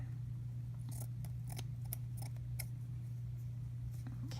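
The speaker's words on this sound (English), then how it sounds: "we'll cut this off. That's just extra lace." Scissors snipping surplus lace off a handmade burlap and lace rose, a series of sharp, close cuts spread irregularly across a steady low hum, with no talking.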